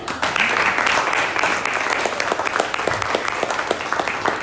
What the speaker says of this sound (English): round of applause, we like it